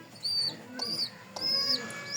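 Pigeons cooing at a home loft where squabs are hand-fed, with three distinct coo phrases in a steady rhythm, close and fairly soft, with no talk.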